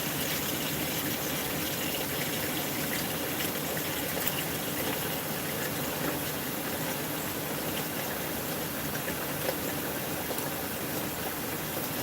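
Water runs steadily from a tap while a cake pan is rinsed and cleaned at a kitchen sink, a continuous close gushing wash with no talk.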